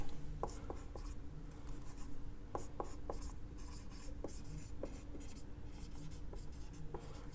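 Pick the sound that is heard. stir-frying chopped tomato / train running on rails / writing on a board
writing on a board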